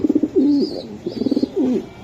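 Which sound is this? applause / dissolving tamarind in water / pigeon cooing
pigeon cooing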